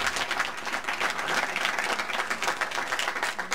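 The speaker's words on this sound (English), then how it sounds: "Y'all give them a big round of applause." Audience applause at a winter sports awards ceremony, a dense steady clapping from a crowd honoring basketball players, sustained and fairly loud throughout.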